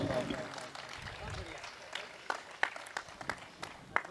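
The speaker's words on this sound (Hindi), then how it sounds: "जोरदार तालियां" Applause from an audience at a Hindi poetry recital: scattered claps and a few sharp individual hand claps that grow more distinct toward the end, mixed with talk throughout.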